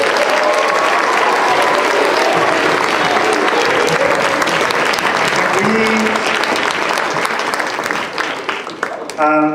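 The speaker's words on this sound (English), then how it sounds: "one final round of applause for our final two finalists, and then Luke." A school event audience applauds contest finalists with loud, sustained clapping and crowd noise that thins slightly toward the end.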